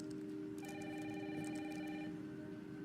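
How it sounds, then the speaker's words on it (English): A telephone rings with a sustained electronic trill for about a second and a half, fairly clear over a constant background hiss of rain. "Mom, phone."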